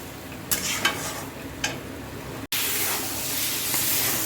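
Rui fish masala with turmeric and salt being sautéed in a pan, a steady broad sizzle with a few sharp stirring scrapes early on, then a louder continuous hiss after a brief break.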